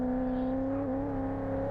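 Corvette engine in a racing video game on a touge mountain road, a steady sustained drone with a strong tonal hum holding pitch, dipping slightly midway, loud and continuous without talk.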